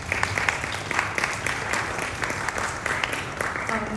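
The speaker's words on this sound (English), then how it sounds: "I want to give a round of applause to all our panelists because they've done such a great job." Audience applause for the panelists at an international student chitchat session at TMU, a steady, moderately loud wash of clapping that runs the whole stretch, with a voice faintly audible near the end.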